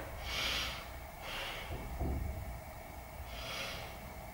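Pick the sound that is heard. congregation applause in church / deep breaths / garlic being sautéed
deep breaths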